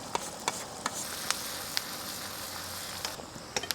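Onion and garlic frying in melted butter in a pan, a steady soft sizzle with scattered sharp crackles and pops, fairly quiet and without talk.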